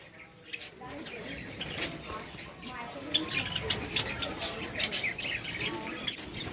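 White Java sparrows chirp in a busy, overlapping chatter, high and fairly close, with soft rustling underneath.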